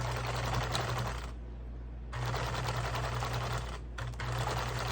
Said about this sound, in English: I don't know why it didn't sew right here.